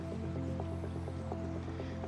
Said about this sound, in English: it's dirty water, but it's not as dirty of water. So it will actually flush out our